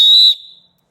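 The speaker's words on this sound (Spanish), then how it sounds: "sonar el silbato para que nos pudieran ubicar" A firefighter's numbered whistle, number 055, gives one short, piercing blast, loud and close, then cuts off into a brief fading ring and silence.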